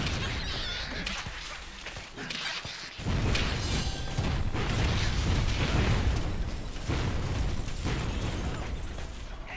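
Turret and mortar explosions from a Railmaster build in the video game Torchlight 3, a dense run of loud booms and bursts that starts softer and then pounds on steadily and close, with no talk over it.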